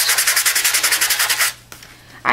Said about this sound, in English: then I take my sanding block